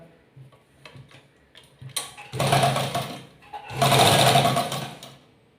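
A sewing machine stitches the legs of salwar pants in two bursts, the second longer, each a loud, steady mechanical whir with ticking clicks before and between them.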